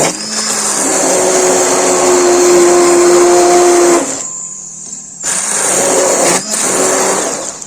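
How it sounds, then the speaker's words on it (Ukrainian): A blender purees cooked elderberries with a loud, steady whirring roar that cuts out briefly twice before starting up again. "тепер ми їх блендером зараз зіб'ємо"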